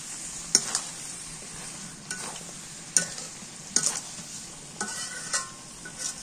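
Beef tripe and potatoes being sautéed in a pan, with a steady low sizzle broken by several sharp scraping strokes of a spatula or spoon at irregular intervals, close and alone.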